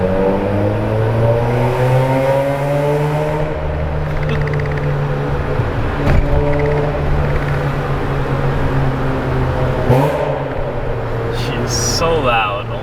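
A loud car engine drones steadily with rising revs and throaty exhaust, close by, with a few sharp surges near the end; the exhaust has no resonator.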